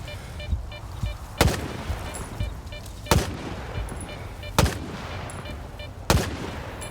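Video game gunfire cracks out in four sharp, loud single shots spaced about one and a half seconds apart, each followed by a short echoing tail over a low background rumble.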